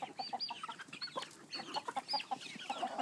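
Several chickens cluck softly in a steady, overlapping chatter near a new coop door leading out to a pasture, with sharper calls popping up now and then.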